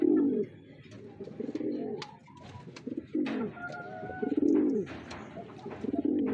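Racing pigeons coo in breeding-season pairing: repeated low, throaty coos in short phrases, close and moderately loud, with faint chirps and rustling between them.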